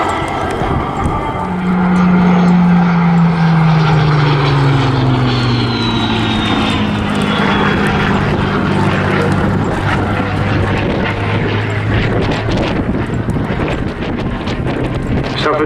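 A propeller display aircraft roars past at Southport Airshow, its engine tone rising and then sliding down as it passes, loud and continuous with wind buffeting the microphone.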